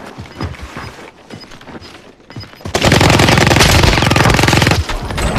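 Sustained AK rifle fire in Call of Duty Warzone, a loud rapid automatic burst that erupts midway and keeps going, after a quieter stretch of scattered game sounds.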